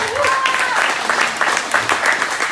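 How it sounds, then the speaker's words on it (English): An audience at a real estate round table meeting claps for a young guest, a loud, dense burst of applause that runs the whole moment, with a few voices and a whistle-like tone mixed in. "Let's give him a round of applause to Josh."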